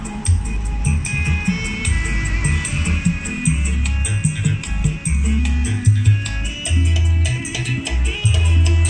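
A Polytron active speaker plays music loudly for a sound test, with heavy pulsing bass notes and bright treble continuous throughout, no talking.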